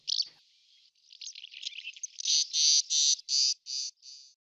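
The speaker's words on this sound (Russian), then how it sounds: "Щебет ласточки трудно услышать в городе" Barn swallow twittering alone at close range, a quick run of high chattering notes that gives way to a series of rhythmic, buzzy crackling bursts, fairly loud and clear.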